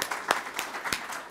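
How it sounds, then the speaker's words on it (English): A small audience at a parish-level church gathering gives a brief round of applause, light and fairly faint, with a few louder individual claps standing out. "let me lead the crowd in a round of applause"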